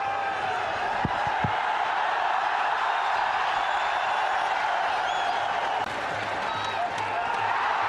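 A cricket stadium crowd in Sharjah cheers wildly, a dense, sustained roar of voices with scattered whoops and claps, steady and loud throughout.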